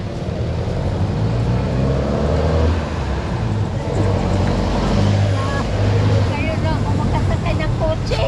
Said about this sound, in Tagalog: Ngayon lang ako magkakasakay ng kotse.